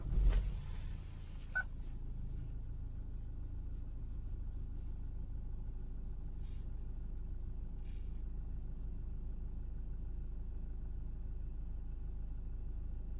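Chevrolet Captiva engine cranking and catching with a brief loud burst, then settling into a steady low idle rumble that continues evenly, faint clicks along the way.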